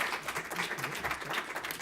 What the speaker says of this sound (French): On peut les applaudir pour leurs très bonnes interventions.